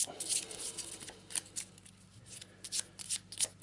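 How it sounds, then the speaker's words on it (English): Board game cards being shuffled by hand in a series of soft, quick riffling bursts, close and fairly quiet, with no talking over them. "So give those a bit of a shuffle."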